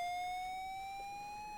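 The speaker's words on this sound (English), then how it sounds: "the air raid siren isn't cueing you into that as bad" Air raid siren in a video game: a single steady, sustained wail holding one pitch with a faint slow rise, continuous and moderately loud throughout, with no talk over it.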